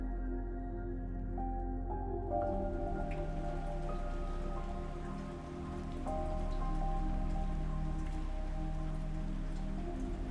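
Light morning drizzle patters steadily on surfaces as a continuous, even rain sound effect in a visual novel, with a low musical drone sustained underneath and no voices.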